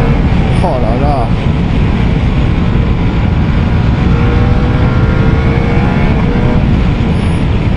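A Ducati Multistrada V4S motorcycle engine roars hard at high revs, a loud continuous blare with wind buffeting, a brief shift blip near the start, and a rider's voice faintly underneath.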